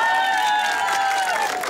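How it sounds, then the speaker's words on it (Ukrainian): An outdoor karaoke-contest crowd in a public square applauds and cheers for a winning young contestant, a brief, moderately loud burst of clapping with whoops over it. "Ваші оплески йому"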